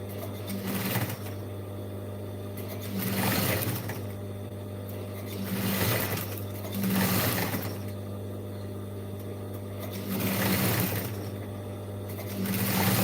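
A sewing machine stitches the lining of a bag made from jeans in short repeated runs, with the motor swelling and easing in regular bursts every few seconds.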